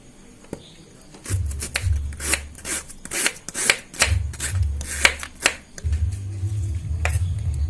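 Three medium onions sliced with a knife on a cutting board, giving a steady run of crisp, rapid chopping strikes close up, with a low background hum in places and no voices.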